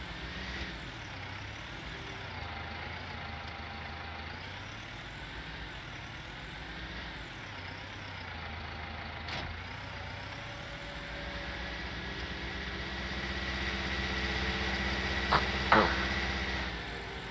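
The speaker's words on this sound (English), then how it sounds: "I really love this little Fendt tractor, this little 313 Vario" A Fendt 313 Vario tractor idles in a farming video game, its engine a steady low drone that wavers gently in pitch and swells slightly near the end, with a couple of brief clicks.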